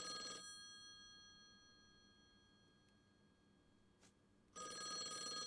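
An old-fashioned telephone bell rings in the horror video game Something Stirs 'neath R'lyeh, two loud bursts of ringing separated by a quiet pause.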